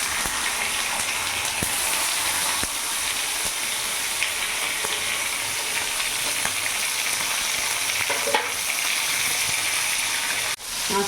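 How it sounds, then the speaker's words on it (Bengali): Bhola fish fries in hot oil over a gas flame, a loud, continuous hiss and crackle that holds evenly throughout, with a few sharp pops and a brief dip near the end, no voices. "তেল গরম হয়ে গেছে, আমি এবার মাছটা দিয়ে দেবো।"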